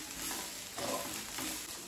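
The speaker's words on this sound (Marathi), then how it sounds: "आणि हे सर्व मिश्रण आपण छानपैकी भाजून घेऊया" A spice mixture with cumin dry-roasting in a pan, stirred gently: a faint, soft continuous rustle and light sizzle with occasional scraping swells, all quite low in level.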